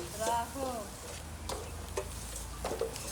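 Hot tempering sizzles softly in a pan of cooked saag greens with a few stirring taps, while a voice talks briefly at the start.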